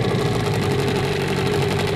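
Gladiator 9.8 outboard boat motor running steadily in reverse gear during break-in on a river, a close, continuous engine drone with no speech.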